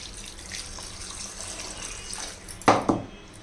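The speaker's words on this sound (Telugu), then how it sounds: "ఇప్పుడు ఒక పెద్ద గ్లాసులో నీళ్ళు పోయాలి" Water streams steadily into a large glass with a faint splashing wash, ending in two sharp knocks or clunks near the end.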